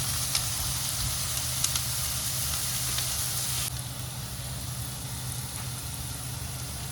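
Salted onions fry in a pan for a prawn and potato dish, giving a steady close sizzle broken by a few light spoon scrapes and taps while being stirred. The sizzle softens slightly partway through.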